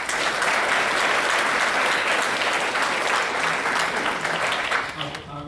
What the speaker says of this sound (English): Please join us in a round of applause for the Tradewind staff.